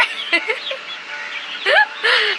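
Loud, close clucks and squawks from sick chickens in a few bursts, with agitated calls rising sharply near the end.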